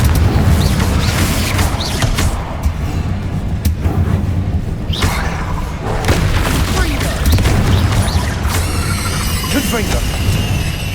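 The Confringo fire spell from Hogwarts Legacy blows up repeatedly in combat: deep booms and crackling blasts over a dense, loud rumble, with thuds and spoken voices scattered through the fight.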